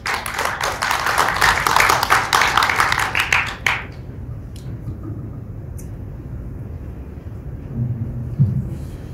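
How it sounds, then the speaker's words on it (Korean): Audience applauding at the opening of an academic society's 20th-anniversary autumn conference, a loud dense burst of clapping for a few seconds that cuts off abruptly into quiet room tone. "뜨거운 박수 부탁드리겠습니다"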